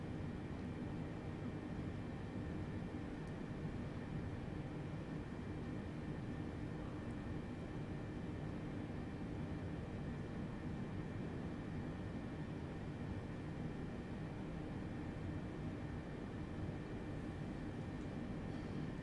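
Steady low engine rumble and broadband hum inside a cargo airliner cockpit as it taxis through turns at about 20 knots en route from Austin to Mexico City, continuous and even with no talk.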